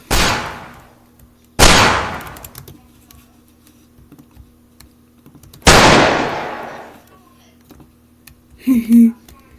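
Gunfire in a sandbox video game: three loud, sharp shots spaced a few seconds apart, each with a decaying tail, followed by a brief burst of speech near the end.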